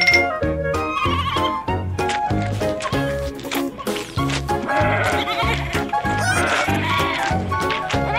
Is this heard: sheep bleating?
yes